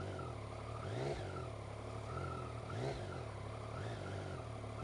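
A 2015 Yamaha MT-09 Tracer motorcycle ridden at slow speed, its engine a steady low drone with gentle, periodic rises in revs, close and continuous with no one speaking.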